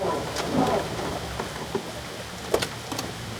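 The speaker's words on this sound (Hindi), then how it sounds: "सारा बारिश भी ना" Rain patters steadily on a surface while thunder rumbles low underneath, with scattered sharper drop hits and crackles throughout, no voices.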